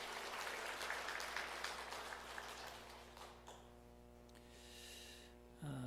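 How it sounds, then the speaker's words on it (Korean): A church congregation claps for a few seconds in a sermon setting, the applause thinning out and giving way to a sustained low steady tone and hum. "귀한 찬양 받으신 하나님께 우리 다시 한번 박수로 영광 올려드립니다."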